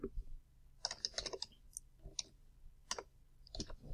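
Typing on a computer keyboard while writing code for a programming exercise: quick, close clicks of individual keys in irregular clusters, fairly faint, with no talk.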